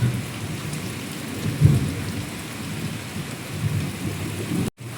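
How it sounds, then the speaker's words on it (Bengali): Steady rain pours down while low thunder rumbles and rolls through, with one deeper swell of thunder partway through. "দেখো বৃষ্টি শুরু হয়েছে আর মেঘ ডাকছে সমানে"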